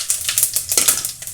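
Cumin seeds sizzling and crackling in hot oil for a North Karnataka tomato saru, a close, quick series of light popping clicks over a soft sizzle, with no one talking.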